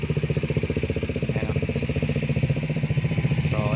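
Several Bajaj Dominar 400 motorcycles idle together at a farm, a loud, close, steady pulsing thrum with a fast rhythmic chug and light mechanical clatter throughout.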